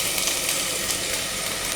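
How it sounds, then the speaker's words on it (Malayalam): Chopped onions sauté in hot ghee with cardamom, cloves and cinnamon, making a steady close crackling sizzle for a brief moment. "ഇനി നമുക്ക് ഇതിനകത്തോട്ട് അരിഞ്ഞു വെച്ചിരിക്കുന്ന സവോള ചേർത്ത് കൊടുക്കാം."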